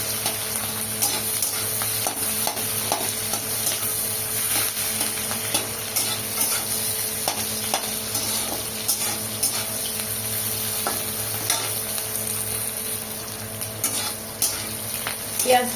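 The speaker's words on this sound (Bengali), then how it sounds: "পেঁয়াজটাকে ভালো করে ভেজে নেব।" Onions fry in a pan, giving a dense, steady sizzle throughout with occasional stirring clicks and scrapes. The sound is close and continuous, with no talking.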